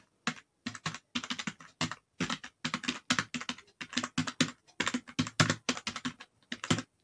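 Fingers type on a computer keyboard in bursts of quick, close clicks separated by short pauses, fairly quiet and with no voices.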